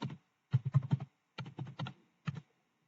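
A password is typed on a computer keyboard as quick bursts of crisp key clicks, closely miked and separated by short pauses.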